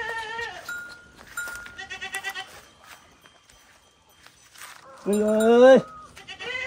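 Goats grazing on a hillside near buffalo bleat in a string of wavering cries, one loud near call standing out, while people talk in between.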